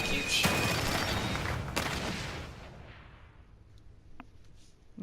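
Gunshots in the horror video game The Evil Within 2, with a loud opening blast and a second sharp shot that ring out and slowly decay into a fading rumble, followed by a faint, distant crack.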